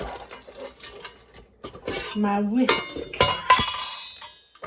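Metal kitchen utensils, including a whisk, clatter and clink against each other and a bowl while making tiramisu, close and busy, with a brief tonal scrape in the middle.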